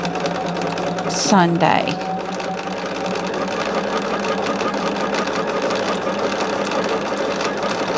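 A sewing machine runs steadily nearby with a quick mechanical whir and rattle, while a person talks briefly over it.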